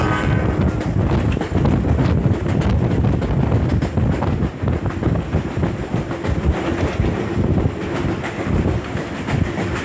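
A train from Anchorage to Seward, Alaska, rolls steadily along the rails with a constant rumble and rhythmic clatter, mixed with wind buffeting the microphone.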